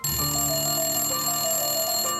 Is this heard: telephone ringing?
yes